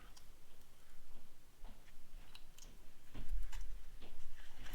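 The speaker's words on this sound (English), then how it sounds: "Take a zip tie" A plastic zip tie ratchets as it is pulled through its head while a bed insert is fitted to a Traxxas TRX6 RC truck, giving quick close clicking runs over a soft handling background.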